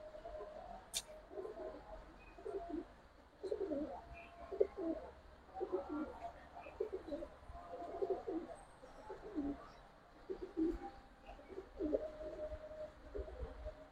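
A breeding pair of Giribaz pigeons coos in a loft, the male's low, throaty calls repeating in close rounds throughout with a soft background hum.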